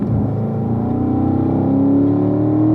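A race car engine pulls hard on a track, one loud rising drone climbing steadily in pitch as the car accelerates up through the gears.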